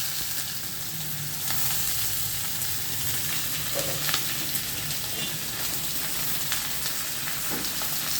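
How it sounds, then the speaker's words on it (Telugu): Fenugreek seeds crackle and fry in hot oil with a continuous close sizzle and scattered small pops, and no talk is heard. "మెంతులు కొంచెం ఎక్కువ వేసుకున్నా పర్వాలేదండి అదే టపటప అంటున్నాయి"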